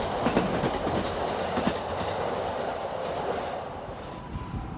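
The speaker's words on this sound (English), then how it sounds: "But here you can see the trains, the Tokaido line, the Yamanote line, the Keihin Tohoku line, the world-famous Shinkansen or bullet train, and the Narita Express" Trains pass on the Tokaido lines at Shinagawa in Tokyo, a steady loud rumble of rolling rail cars with faint clickety-clack. No voices are heard.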